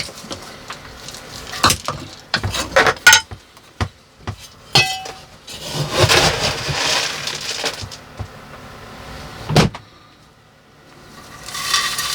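Soil and grit poured and scooped into a bonsai pot while repotting a Persian ironwood, heard as irregular close bursts of crunchy rattling and scraping, with brief clinks and quiet gaps between.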